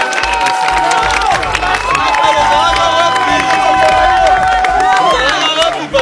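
Applause and cheering from a large crowd at a public gathering, loud and continuous clapping mixed with shouts and whistles, with voices speaking over it throughout.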